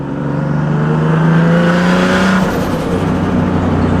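A Nissan 370Z Nismo fitted with a Z1 Motorsports under-shroud intake revs up and settles, its loud, close engine note rising and then holding with a fluttering intake sound.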